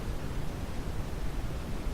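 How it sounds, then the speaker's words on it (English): A Feedback Modules Static synth module puts out steady pink noise, a dull, even hiss weighted toward the low end that holds constant throughout with no voices. "Now the other kind of noise from the same vein, from the same core, is a pink noise."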